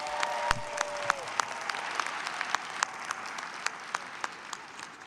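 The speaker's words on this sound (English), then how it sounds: "let's give them a round of applause." An audience at a university commencement ceremony applauds in a sustained burst of clapping with some distinct sharp claps, as a voice finishes speaking briefly at the start.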